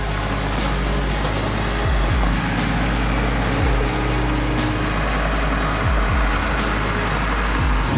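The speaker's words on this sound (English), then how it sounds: "So we're driving in the TJ Jeep Wrangler." A TJ Jeep Wrangler swapped to a Cummins R2.8 diesel drives steadily, heard from inside the cabin as a continuous low engine drone and road rumble, with no talking.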